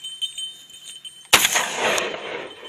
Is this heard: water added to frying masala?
no